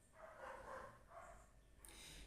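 Neighbouring dogs bark in the background, a few faint, distant yaps in quick succession in an otherwise quiet setting with no talk.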